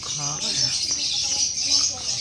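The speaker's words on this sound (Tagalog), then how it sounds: "May mga ibon dito." Birds chirp in the background along a morning forest hiking trail, with soft calls repeating over steady broadband ambience and faint distant voices.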